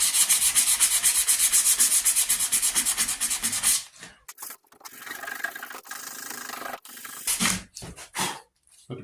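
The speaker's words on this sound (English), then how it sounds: "I don't like sanding across the grain." Sandpaper rubbing across the wooden stock of a handmade .50 caliber St. Louis Hawken rifle, a close, steady rasping run of quick strokes that stops abruptly, followed by a few softer, scattered scrapes and handling noises.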